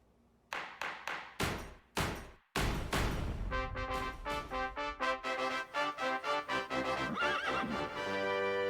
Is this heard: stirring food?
no